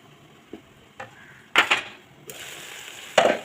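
A spoon stirs beans and carrot poriyal with a pinch of asafoetida in a pan, making several scattered scrapes and metallic clinks in irregular bursts, fairly close, with no talking.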